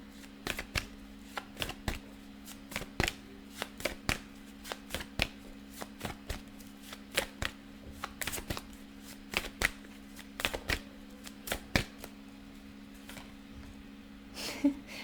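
A deck of tarot cards is shuffled repeatedly, with sharp riffling snaps and flicks in an irregular rhythm over a low steady hum, close and without talk.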